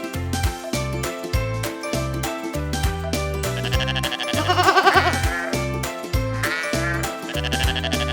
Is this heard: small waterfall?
no